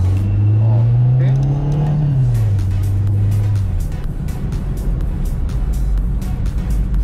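A 2003 Toyota Corolla Altis with a 1.8-litre engine and automatic gearbox accelerates loudly and close up on a test drive, its engine note rising then dropping back to a steady drone as someone talks over it.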